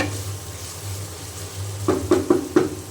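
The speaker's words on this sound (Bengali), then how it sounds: "আমি ভালো করে কষিয়ে নেব" Beef with spices sizzles softly in a pan while being stirred, a low steady frying hiss broken near the end by several quick scraping clinks of a spoon against the pan.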